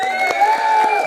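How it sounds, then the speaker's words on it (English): A studio audience cheers and claps in a short, steady burst at an interview with traders, with a continuous crowd roar and scattered whoops. "Round of applause, everybody."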